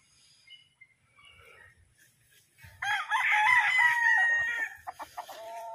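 Seven-month-old brood stag roosters crow and cluck at close range, with faint scattered clucks first, then a loud, full crow from about three seconds in that trails into a few short clucks.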